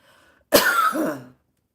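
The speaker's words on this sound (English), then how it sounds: "some of you needed to cough" A single close throat clearing rolls into a short cough, a raspy burst of about three quarters of a second in an otherwise quiet room, with no talking.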